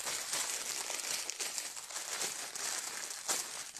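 Crinkly plastic packaging rustles and crackles steadily as Roxane Cuisine silicone mitts are unwrapped, with a few sharper tearing bursts, close and fairly loud with no talk.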